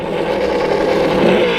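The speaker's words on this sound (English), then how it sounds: "And let's rev up our engine, shall we?" Small Traxxas Slash RC car's electric motor whines and revs steadily, a continuous loud buzzing drone that swells slightly toward the end.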